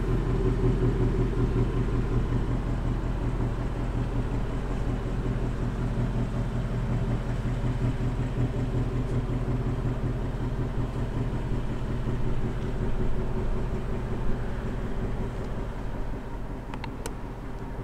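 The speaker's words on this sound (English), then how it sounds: "GTs now have quad exhaust outlets instead of duals on the 17. Let's just pause for a moment to admire that sound." A 2018 Ford Mustang GT V8 idles with a deep, steady burbling rumble through its quad exhaust, loud and constant throughout, dropping slightly near the end.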